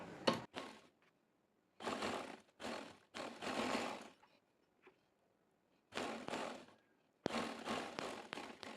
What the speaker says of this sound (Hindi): यूँ फ्रंट को हमने इसके ऊपर रख के यूँ सिलाई लगा लेनी है।